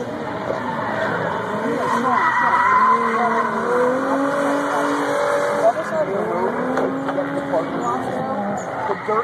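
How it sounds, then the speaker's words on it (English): A car drifts at an East Coast drift event. A loud, sustained engine roar mixes with long rising and falling tire squeals that keep going for the whole stretch. "I'm going to drift it."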